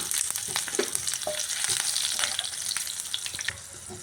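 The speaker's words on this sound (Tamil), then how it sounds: "கடுகு உந்து பருப்பு போட்டுறேன் இது கொஞ்சம் வெடிக்கட்டும்" Mustard seeds and urad dal spluttering in hot oil for tempering, a dense crackle of quick pops over a steady sizzle, close and fairly loud, easing slightly at the end.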